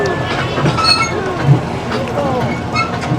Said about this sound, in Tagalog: Nakasakay na tayo dito sa tren.